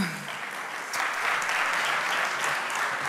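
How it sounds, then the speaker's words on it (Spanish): Audience applause welcoming a speaker at a corporate event, a steady wash of clapping that swells louder about a second in and holds strong to the end. "Recibimos con un fuerte aplauso"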